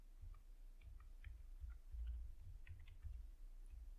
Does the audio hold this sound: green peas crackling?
no